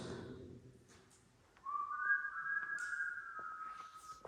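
A single person whistles a rising, sustained tone inside a cave that lingers and rings out with a strong echo, faint and distant.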